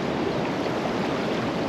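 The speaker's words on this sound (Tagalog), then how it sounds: "Malakas po yung karin ng tubig yan." Strong current of river water rushing steadily, a loud dense broadband roar without pause, heard up close.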